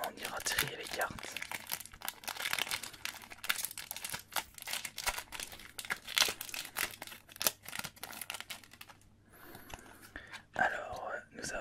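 Wrestling trading card booster pack foil being torn open and crinkled in close-up ASMR handling, a steady run of crisp crackling rips and rustles, with soft whispered French talk over and around it.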